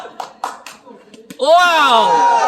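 A few scattered hand claps ring out from a small group at a casual cricket game, then a loud, excited voice cuts in and holds over the end.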